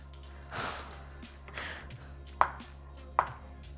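A knife slices beetroot on a cutting board at close range. Soft scraping and rustling strokes lead into two crisp, sharp cuts spaced about a second apart.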